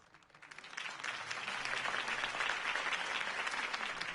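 Crowd at a campaign rally in the game Batman: The Telltale Series erupts in applause after a speech, a dense wash of many hands swelling from quiet to a loud sustained roar.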